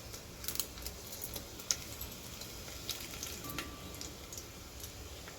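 Mustard seeds, cumin and green chillies sizzle and crackle in hot oil for a tamarind rasam tempering, with irregular small pops and spits over a continuous low frying hiss, close and fairly quiet.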